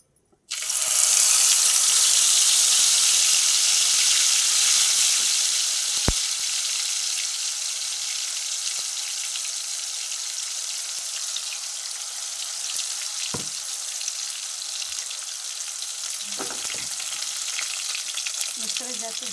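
Tomato and onion paste bursts into a loud sizzle as it hits hot oil, then settles into a steady crackling fry with occasional faint clinks of a spoon.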